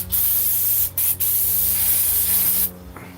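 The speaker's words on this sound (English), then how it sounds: "I gotta spray it again." Aerosol spray aimed at the carburetors of a 1995 Kawasaki Ninja 900, close and loud hissing bursts with two quick breaks before the spray cuts off near the end.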